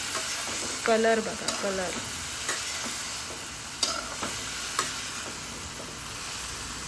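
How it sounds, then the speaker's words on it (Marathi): Potatoes being stirred into a vegetable bhaji in a pan, gentle scraping and steady sizzling throughout, with a brief voice speaking early on. "आता बटाटा ऍड करूया. हे सगळं छान मिक्स करून घेऊया."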